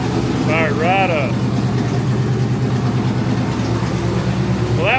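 A 1954 Chevy engine idles steadily just after starting, a low continuous rumble held close throughout, with a voice rising briefly over it twice.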